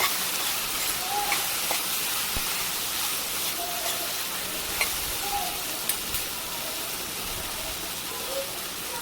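Onions and brinjal cooking in a pan for brinjal curry as they are mixed, a faint steady hiss of frying with a few light spoon taps, no voices heard.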